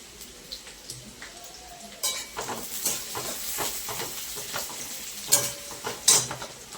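Green chillies drop into a pan of onions fried until red and sizzle in hot oil. Bursts of spattering and hissing build over soft background frying, with a couple of sharp crackles and light stirring scrapes.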